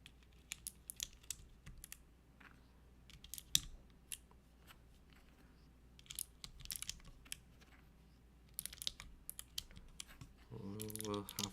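Keyboard with Gateron switches clicking, sparse quiet bursts of crisp key clicks and typing in irregular clusters, faint and close, with a brief voice at the very end.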